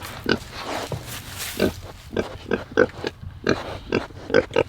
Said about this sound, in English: Might be a sick pig.